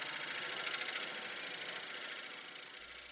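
A wood lathe spins a big walnut slab, giving a steady, loud, broadband whir with a constant mechanical hum. It runs smoothly and continuously throughout with no voices.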